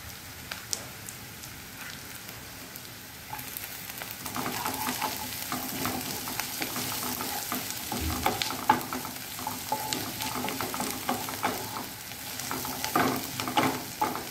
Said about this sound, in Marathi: आता त्याच्यामध्ये आपण गाजर टाकणार आहोत।